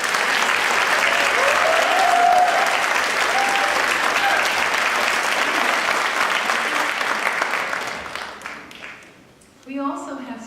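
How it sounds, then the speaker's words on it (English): An audience at a student concert claps steadily and loudly for several seconds, the applause thinning and fading out near the end before a voice begins speaking. "we would like to applaud all of them"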